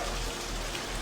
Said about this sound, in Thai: นี่ครับฝนก็ยังไม่หยุดตกนะครับ